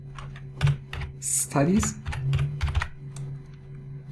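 Keys clatter on a computer keyboard as a website address is typed, with the clicks running under steady talking and a constant low electrical hum.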